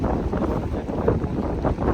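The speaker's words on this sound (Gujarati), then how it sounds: "પવન આમ મસ્ત ઠંડો આવે છે" Cool wind blows steadily in Chania Old Town, Crete, making a constant broadband rush and buffeting against the microphone with slight gusts, close and alone.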